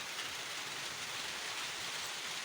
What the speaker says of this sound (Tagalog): Umuulan na siya, umuulan na.